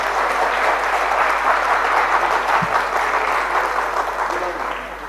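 Audience applause welcoming guests onto the stage at a Jammu and Kashmir gathering, steady dense clapping from a large crowd that holds for the whole stretch and eases slightly at the end.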